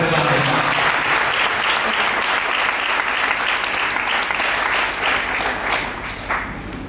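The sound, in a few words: audience clapping at a church sermon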